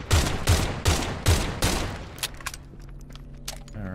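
Pistol gunfire in the game Pioner: five loud, evenly spaced shots ring out close by, followed by quieter clicks and clatter as the echoes fade.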